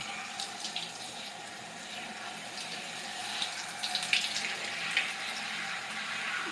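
Running tap water poured onto curly hair during a wash day, a steady hiss of flow throughout with small splashes and drips, close and moderately quiet.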